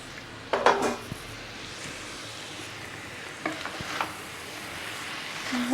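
Boiled noodles being stir-fried with sauce and salt in a pan for Schezwan noodles, with a few brief utensil clatters and scrapes over a faint background sizzle.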